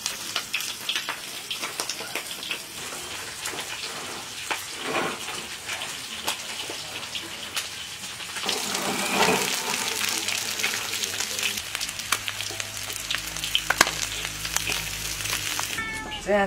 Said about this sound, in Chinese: 这样炸一下特别的香啊。